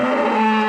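A bred beef cow on a rainy farm gives a single short, loud, close moo with a steady tonal low pitch.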